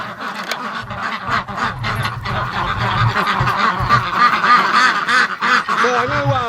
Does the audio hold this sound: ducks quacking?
yes